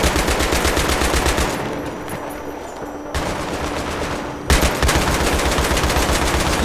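Loud, sustained machine gun fire in the Battlefield 3 video game, rapid evenly spaced shots in long bursts with brief pauses between them and no talking over it.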